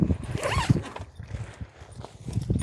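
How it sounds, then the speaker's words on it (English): A zipper is pulled open along a heavy storage bag holding the sectional floor of a Boat World 330 inflatable boat, with several close, rasping strokes in bursts and brief pauses between them. "As you can see, I'll just zip it"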